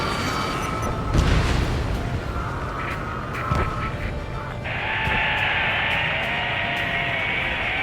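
Missile explosions in the Ace Combat 7 jet combat video game, heavy booms at about one and three and a half seconds over a constant roar of jet engine noise, then a steady high whine in the second half.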